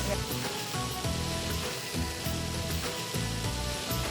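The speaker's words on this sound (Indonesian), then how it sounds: "Kita mau goreng dulu supaya minyak ayamnya keluar" Small chicken pieces fry in hot oil, giving a steady, loud sizzle that crackles on throughout without any talk.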